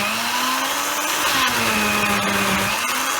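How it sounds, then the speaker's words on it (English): A blender whirs at a steady, loud pitch, churning a thick puree with milk for a Chateaubriand steak sauce. The motor drones continuously with slight shifts in tone and no talking. "All I'm doing, small increments, just to get this puree to blend."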